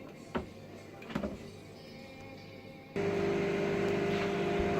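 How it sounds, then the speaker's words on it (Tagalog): A microwave oven heating milk: after a couple of soft clicks and taps, a steady close-up hum with a tonal drone starts and runs evenly to the end. "painit ko sa microwave ng 1 minute."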